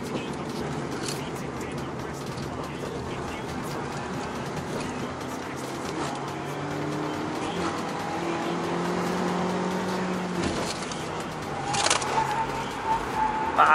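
A car engine pulling hard in second gear on a mountain pass road with new studless winter tires, giving a sustained straining drone as revs climb steadily under loud road and tire noise, with no voices.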